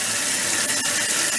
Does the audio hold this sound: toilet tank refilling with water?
yes